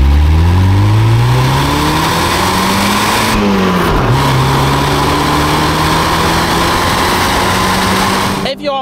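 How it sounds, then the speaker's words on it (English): A Mazda MX-5 NC (Miata) engine revving up through the gears, the loud, smooth rising pitch climbing in repeated sweeps, then settling into a steady drone with talk over it. "it revs cleanly, nicely, and smoothly"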